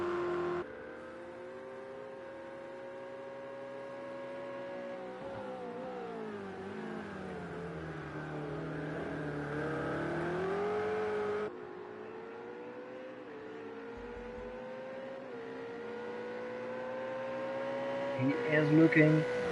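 Race cars, including a Ferrari, circle the Red Bull Ring in Project CARS 2, their engines a steady droning whine that rises and falls through gear changes while a commentator talks over them.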